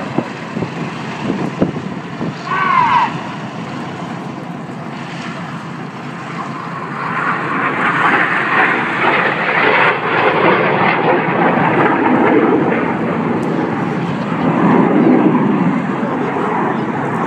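Red Arrows jets perform a formation flying display at the Duxford airshow, their engines a broad, distant roar that swells gradually, with wind buffeting the microphone and a commentator talking over it.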